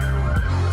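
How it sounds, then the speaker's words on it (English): A brief stretch of wailing siren in a Toronto street at night, steady and fairly loud, heard over a low background hum without any voices. "hear the siren in the background."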